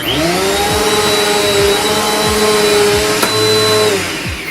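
A Eureka Airspeed NEU10AE4 upright vacuum cleaner runs steadily and loudly at close range, its motor whine holding an even pitch throughout with one brief click near the middle and no talking.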